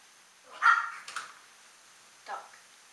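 A dog barks suddenly indoors, two quick sharp barks followed a moment later by a third, fairly close and clear against a quiet room.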